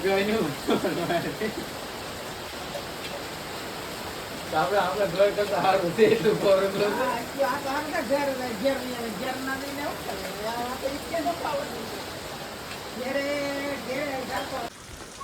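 Heavy rain pours steadily onto tin roof sheets during a thunderstorm, a dense, even hiss and patter that runs throughout underneath a voice.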